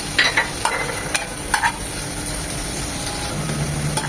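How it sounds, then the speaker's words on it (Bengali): Garlic sauce chicken with split green chillies stir-fried over high heat, a steady sizzle with repeated spatula scrapes and clinks against the pan, close and alone. "এক মিনিট এটাকে হাই হিটে ভেজে"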